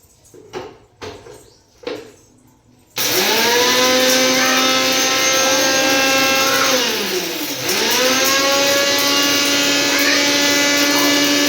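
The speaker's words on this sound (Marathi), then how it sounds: "खडे मसाले अगोदर फिरून घेते मिक्सरला" After a few brief knocks, a mixer grinder roars to life grinding whole spices: a loud, steady motor whine that dips briefly in pitch midway, with no talking.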